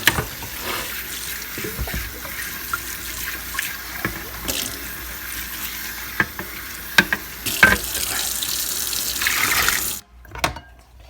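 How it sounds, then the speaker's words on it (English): Water runs from a tap into a pot of Lao sticky rice, a steady close hiss and splash with occasional clunks and knocks, swelling louder before it cuts off near the end. "I'm pouring the rice into the hot"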